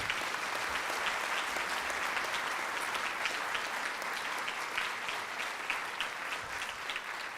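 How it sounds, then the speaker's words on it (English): An audience at a high school academic awards ceremony and honor society induction applauding the award winners, a sustained, even round of clapping from a crowd in a hall, with no voices over it. "How about one last round of applause for all of our award winners tonight?"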